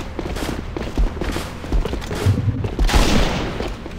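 Bursts of gunfire crackle through a close firefight in the online shooter AVA, with rapid shots and heavy booms stacking up, loudest near the end, and no talking over it.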